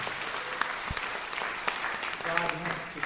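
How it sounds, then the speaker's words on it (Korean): Church congregation at a Gwangju conference applauding a guitarist, a dense patter of clapping heard at a distance with a voice speaking over it. "박수로 축하드립니다"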